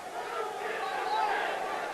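A hockey arena crowd roars and murmurs in a sustained, loud swell during a Skipjacks versus Binghamton game as the goalie is changed, with no single voice standing out.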